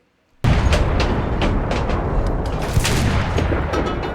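Japanese tank gunfire and an ammo rack hit in the Enlisted video game: an abrupt loud blast breaks the silence and turns into a continuous rumble of battle noise, with repeated sharp cracks and booms throughout and one stronger burst near the end.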